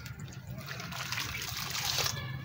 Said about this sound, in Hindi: दरमियान में पानी डाल के